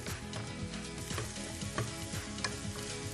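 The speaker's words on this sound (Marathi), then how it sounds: "छान असं परतून घ्या." Masala sautéed and stirred in a pan, giving a steady close sizzle with scraping stir strokes throughout, no voices.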